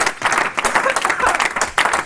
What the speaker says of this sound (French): est-ce qu'on peut acclamer quand même pour Jésus?